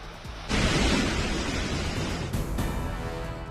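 Heavy monsoon rain pours down in a flooded low-lying city area, a loud, dense, continuous hiss that swells abruptly after a brief softer start and keeps roaring without pause.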